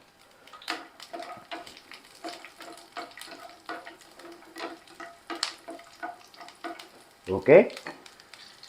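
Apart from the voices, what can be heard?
garlic and green chilies sautéing in a pan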